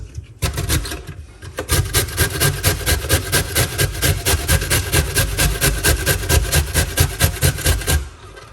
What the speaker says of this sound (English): We're gonna grate at the cauliflower like this.